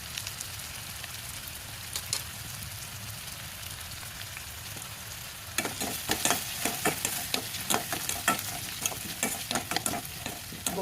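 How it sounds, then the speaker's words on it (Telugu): Onions fry in a pan with turmeric and salt, giving a steady sizzle that grows louder and crackles more busily partway through, with occasional stirring scrapes and no talking. "గోల్డెన్ బ్రౌన్ కలర్ వచ్చే వరకు ఫ్రై చేసుకోవాలి ఆనియన్స్"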